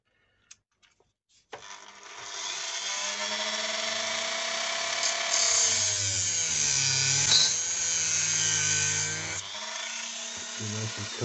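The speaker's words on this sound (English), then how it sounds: "I find the grinder gives just a much more square finish to it" An angle grinder cuts a metal rod for a 1/35 scale radio-controlled S100 Schnellboot model. A few faint clicks lead into a loud, steady, high whine lasting about eight seconds before it stops.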